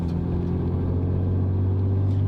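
A Ford Explorer ST V6 with its center resonator and rear mufflers deleted and a valved universal exhaust set open idles in a steady, deep, close rumble, alone and unbroken.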